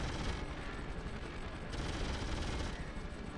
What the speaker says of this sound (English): I'm trying to space out my bullets because I'm overheating a little bit